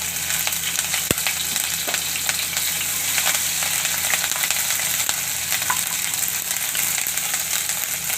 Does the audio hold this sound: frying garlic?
yes